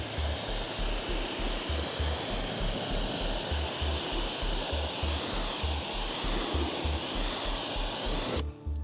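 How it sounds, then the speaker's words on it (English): Steady broadband rush of water spraying from a garden hose indoors onto a car being washed, continuous and close with a rhythmic low pulsing underneath, cutting off abruptly near the end. "So here's a shot of Bola inside using the garden hose."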